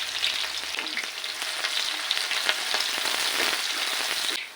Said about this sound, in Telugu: ఇప్పుడు ఆయిల్ వేడెక్కింది ఆనియన్స్ వేసుకుంటున్నానండి పచ్చిమిర్చి కూడా వేసుకుంటాను